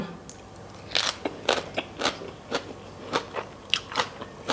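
Crisp green papaya strands of spicy Thai papaya salad crunch between the teeth in a close, irregular series of sharp bites and chewing, with no talking.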